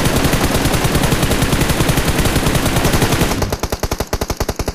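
Sustained automatic gunfire in the battle royale game PUBG, a dense, loud stream of rapid shots that gives way to distinct, evenly spaced bursts near the end, with no voices.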